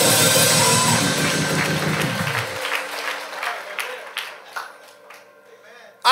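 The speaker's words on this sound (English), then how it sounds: "Now clap your hands and give God a shout of glory." Loud congregation at a revival service clapping and shouting in a dense burst with music underneath, gradually thinning to scattered claps and a few voices.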